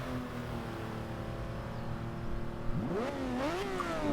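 An Aston Martin One-77 from 2010 in Forza Horizon 2 holds a steady engine hum, then revs sharply twice near the end, rising and falling in pitch.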